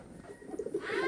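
Pigeons and doves coo softly in a short, close burst of low throaty calls that builds toward the end, with a faint higher chirp in the background and no talking.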